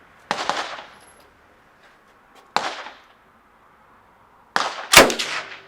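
Gunshots fired at a shooting range in Prague: three sharp, loud reports spaced a couple of seconds apart, each with a brief echoing decay, the last one strongest, with no talk.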